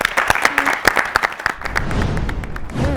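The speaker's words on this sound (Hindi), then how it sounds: "आपके पेरेंट्स के लिए तालियां" Studio audience clapping for a talk-show guest's parents, brisk uneven claps that thin out and give way to low murmur and a voice near the end.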